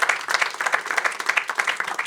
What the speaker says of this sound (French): Y en a-tu qui ont vu ça par applaudissement?